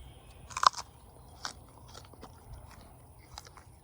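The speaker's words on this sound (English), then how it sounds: "You can hear the crunch." A crisp crunch as teeth bite into a fresh, firm jujube fruit, not yet fully brown, picked in an orchard. One sharp loud bite is followed by quieter chewing crunches, close to the microphone with no talking.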